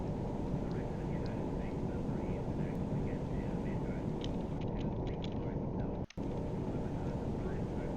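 A propeller aircraft engine in the submarine game Silent Hunter drones as a steady, broad rumble throughout, with faint higher engine tones and no talk.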